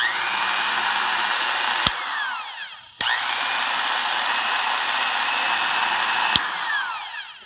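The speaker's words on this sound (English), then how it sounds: "It's a nice quiet drill, lightweight." A vintage Black & Decker No.100 electric drill, freshly serviced, runs close by with a steady motor whine. It cuts off briefly twice with a click and spins back up, and no one speaks.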